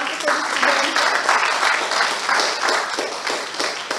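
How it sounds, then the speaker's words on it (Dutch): An audience at a water forum anniversary event applauds the students, a steady wash of many hands clapping for a few seconds, with slight rhythmic swells. "En ik wil gelijk een applaus geven."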